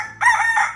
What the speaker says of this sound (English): It said cluck.